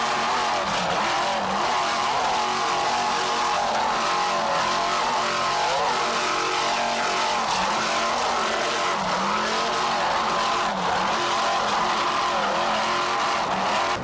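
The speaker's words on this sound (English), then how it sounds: "a 32-foot skater powered by 2 700 horsepower United Racing engine inboards with Mercruiser drives" A 32-foot Skater powerboat with twin 700-horsepower United Racing inboard engines and Mercruiser drives races at full throttle, giving a continuous loud, roaring engine drone with slight wavering pitch and no pauses.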